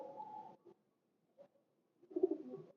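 High flyer pigeons coo softly in two low, throaty bursts separated by a short silence, heard fairly faint and close in a quiet setting.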